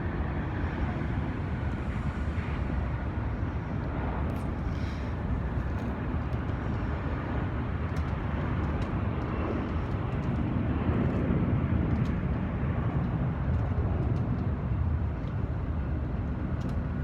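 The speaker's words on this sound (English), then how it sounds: "Oh, here's a Southwest landing." A Southwest airliner landing at Los Angeles airport gives a steady, broad jet roar that holds at a constant level for the whole stretch, with no voices over it.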